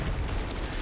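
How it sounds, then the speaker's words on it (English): A big in-game explosion from Company of Heroes 2 on a WWII battlefield, a dense low rumbling boom that fills the moment with steady broadband noise and no talk over it. "Whoa, somebody just blew up there."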